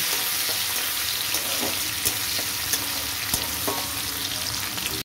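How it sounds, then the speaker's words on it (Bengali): Garlic frying in oil, a steady loud sizzle with scattered crackles and occasional spatula taps against the pan, close and uninterrupted by speech, cutting off abruptly at the end. "রসুনটা একটু ভালো করে ভাজা ভাজা করে নেব।"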